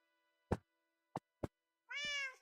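A cat in Minecraft gives three short clicky taps followed by a single clear, tonal meow, crisp and close against silence.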